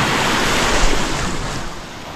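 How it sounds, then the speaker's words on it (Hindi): Fast floodwater rushing past over a flooded field path, a loud, steady broadband roar with surging turbulence, close by and continuous with no voices. "खतरनाक पानी बह रहा है इधर, पूरा बाढ़ आ चुका है"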